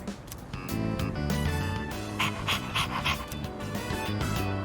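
Koromaru, a dog in the video game Persona 3 Reload, pants steadily and rhythmically over a constant bed of game music, with the breaths sounding close and moderately loud.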